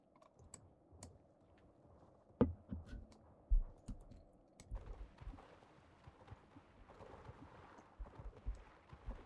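Horse hooves clip-clopping in the video game Star Stable, a soft rhythmic trot under faint keyboard clicks and occasional taps, with no talk.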